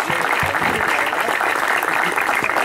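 Audience applause fills a hall at a social-commitment awards ceremony in San Lorenzo, a dense steady wash of clapping with some voices mixed in underneath.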